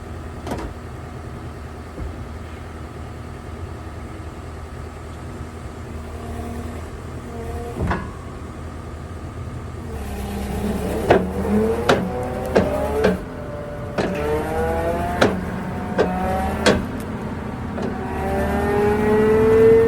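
A vehicle engine cranks and starts after a quiet stretch, then revs in repeated rising and falling bursts, growing louder toward the end; a few knocks and clunks punctuate it.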